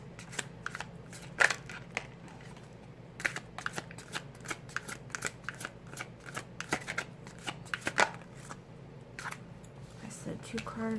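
Tarot cards being shuffled close by in rapid, uneven riffling bursts that continue throughout, with quiet speech underneath.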